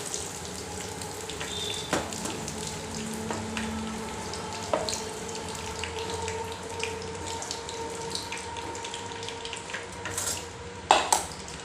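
Pakoras frying in hot oil, a steady close sizzle and bubbling with a few sharp clinks and stirring knocks, no voices.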